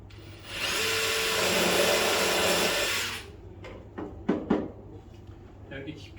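A drill with a double drill bit bores a screw hole in wood in a workshop, a loud steady whir lasting about three seconds, followed by a few clunks and handling knocks while a person talks.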